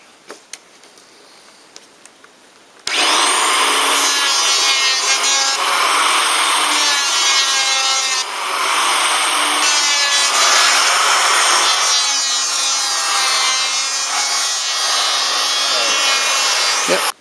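Hand plane shaving beech wood for a ship's table, a sustained rasping, rubbing stroke that starts abruptly after a quiet opening and runs loud and close without a break for the rest of the clip.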